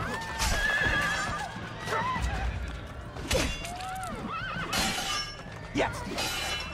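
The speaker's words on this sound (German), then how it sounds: "Mann, so ein scheiß Pferd, ey." A horse whinnies loudly several times in Assassin's Creed Brotherhood gameplay, its neighs rising over hoof clip-clops and a glassy shattering crash, with a voice talking in between.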